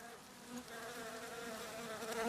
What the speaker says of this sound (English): Inside the tree, the bees form living chains.